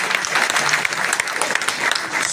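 An audience at an MI Lifestyle business event gives Shailesh sir loud, sustained applause, with dense clapping filling the whole stretch and no talk over it.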